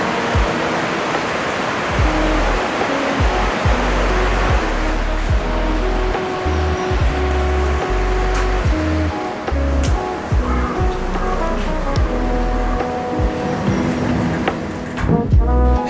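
The Kano River flows below a traditional Japanese ryokan room as a steady, broad rush of water, continuous and fairly loud, with soft low thumps scattered through it and no voices.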